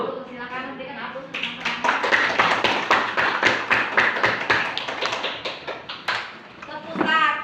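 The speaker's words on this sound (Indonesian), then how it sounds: "Silakan berikan aplaus" Classroom applause from students in a teaching session, a dense run of rhythmic hand clapping lasting several seconds, fairly loud and close, with children's voices heard at the start and end.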